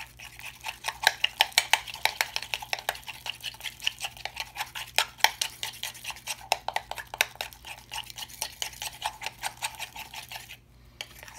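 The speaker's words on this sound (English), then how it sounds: "You really got to mix it up to get those clumps to kind of dissolve out." Henna powder and water are stirred into a paste in a bowl, with a steady rhythmic run of close scraping taps as the utensil circles and knocks the sides, continuing for several seconds before a short pause.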